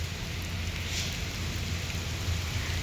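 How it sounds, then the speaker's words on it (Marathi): Steady heavy rain pours down, heard from under trees near Baramati, a dense continuous hiss with a low rumbling undertone, no voices, holding constant throughout. "असा पाऊस चालू झालाय ना मी तुम्हाला दाखवते"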